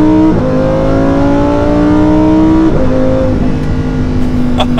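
A Lamborghini Huracan EVO engine revs loudly and close, rising in pitch through gear-like steps with sharp shifts, a strong mechanical howl filling the whole stretch.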